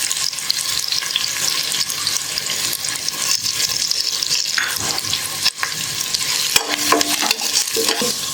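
Onions and cashews frying in a pan for veg pulao, a loud continuous sizzle with steady stirring and occasional scraping clinks of the spatula, close up.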